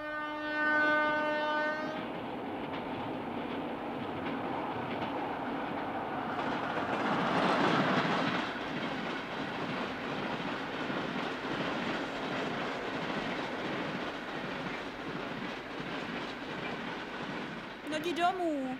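Train to Moscow in a 1977 Soviet film sounds a long horn blast, then rumbles past with rolling rail clatter that stays steady for many seconds, with faint voices over it.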